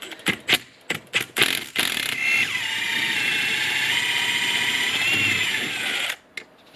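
A powered ratchet removes the top nut from a Ford Fiesta strut during a coilover install, with several short bursts followed by a long, steady whirring run that cuts off abruptly.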